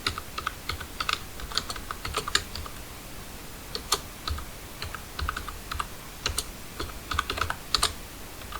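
Typing on a computer keyboard while writing leaflet text in Microsoft Word: irregular bursts of close, crisp keystroke clicks with short pauses, no voices.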